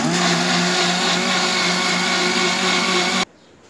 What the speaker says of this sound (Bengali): এবার এটাকে আমি আবার কিছুক্ষণ ব্লেন্ড করে নেব।